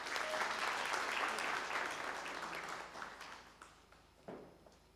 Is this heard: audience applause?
yes